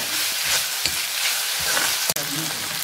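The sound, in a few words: tomato and onion frying in a pan for kovakka fry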